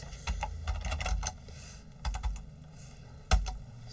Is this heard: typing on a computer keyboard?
yes